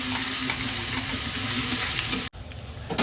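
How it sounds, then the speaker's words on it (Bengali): Onions frying in a pan over a medium flame, a steady crackling sizzle with faint stirring, close and continuous, briefly cutting out near the end before resuming. "এবার আমরা এটাকে 5 থেকে 4 মিনিট একদম মিডিয়াম ফ্লেমে এটাকে ভেজে নিতে হবে।"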